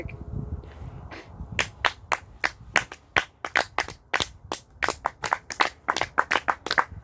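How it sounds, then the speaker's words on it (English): A single person or small group claps steadily at close range, after a brief pause at the start, producing crisp, evenly spaced hand claps that continue to the end. "So really a good hand of applause to Nicholas Brown"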